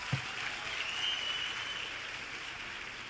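An audience at a youth empowerment event gives a speaker another round of applause, a dense, sustained wash of clapping that stays even and fairly loud with no talk over it.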